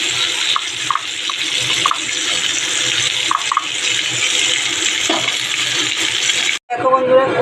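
Water poured into frying masala in a pan, a steady hissing, splashing pour that runs for several seconds before cutting off, close by, with a voice speaking faintly underneath.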